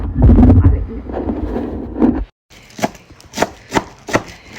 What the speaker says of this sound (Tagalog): Yan naman ating hiwain.